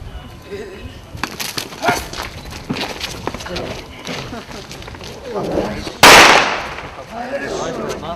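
One sharp, loud gunshot cracks out over background voices and footsteps, after a stretch of scattered clattering and commotion, during a police demonstration for children in Berdychiv, Ukraine.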